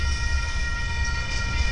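A Union Pacific train rolls past outdoors, a steady low rumble of rail cars and wheels holding close and loud throughout, with no voices over it.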